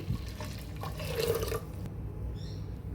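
Water poured into tomato puree while making vadiyalu at home: a continuous close splashing, gurgling pour that shifts in tone midway, then settles into a softer trickle over low background noise, with no speech.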